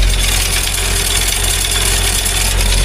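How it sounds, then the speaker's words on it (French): A strained air compressor runs at a farm in the evening, making a loud, steady mechanical drone with a deep low hum and no pauses. "Le compresseur tourne, mille dieu. Il en peut plus."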